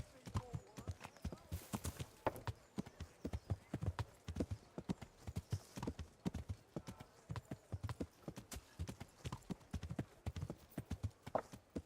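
Horse hooves clip-clop in a steady, rhythmic walk throughout, fairly close and distinct, in the medieval role-playing game Kingdom Come: Deliverance, with occasional faint talk in the background.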